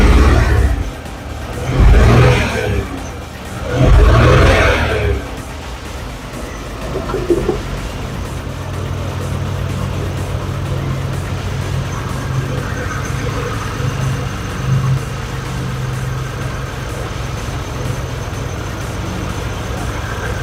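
A car engine revs hard in two loud bursts close by, then settles into a steady, rough idle that runs on alone.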